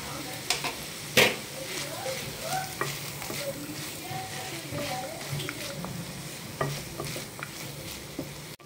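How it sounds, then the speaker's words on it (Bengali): Banana flower frying and being stirred in a pan, a steady sizzle with scraping stir strokes and occasional clinks, close and fairly quiet, with some background voices. "হচ্ছে একটু ভাজা ভাজা করে নিয়েছি।"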